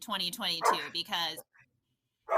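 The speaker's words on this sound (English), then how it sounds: "That was my dog." A dog barks in the background of a video call, one short sharp burst heard after a stretch of talk, with people speaking just before it.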